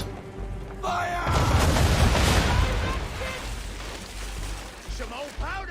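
Ship cannon fire in Assassin's Creed 3: a heavy booming broadside that erupts and rumbles for a couple of seconds before fading into debris and crackle, with game voices at the start and the end.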